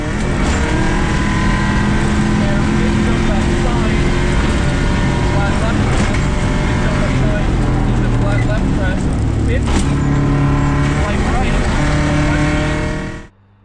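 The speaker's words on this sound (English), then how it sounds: "let's take a seat inside the Subaru Impreza of Jonathan Drake and co-driver Ian Lance as they navigate the Shakedown stage with precision and speed" Subaru Impreza rally car pushing through the Shakedown stage, its engine roaring continuously at high revs with gear changes and pitch shifts, loud and close from onboard, under a narrator's voice.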